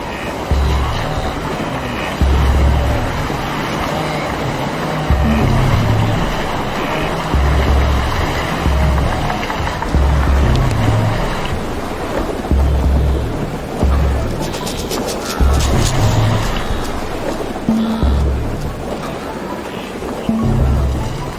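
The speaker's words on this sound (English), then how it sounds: "they fight the downstream pull of the water and the deadly kicks of their relatives" River water rushes loudly as an animal herd crosses in Africa, struggling against the downstream current; a continuous roaring surge of water fills the scene, with heavy low thuds recurring beneath it.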